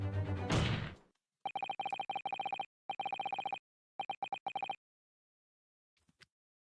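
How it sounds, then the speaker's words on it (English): In The Great Ace Attorney Chronicles, a strange, woeful chiming rings in repeated bursts of bright, bell-like pulses in a stop-start pattern, alone after a brief noisy burst, trailing off into two faint final chimes. "Just what relevance do you propose this woeful chiming has on this case?"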